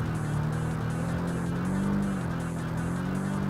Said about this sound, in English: The VQ engine, that sounds pretty good actually.